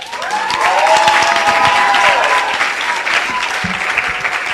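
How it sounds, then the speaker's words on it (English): Loud, dense applause at a symposium honoring Louise Bennett-Coverley fills the room and holds steady throughout, with a voice briefly rising above the clapping early on. "I want to just, give them a hand."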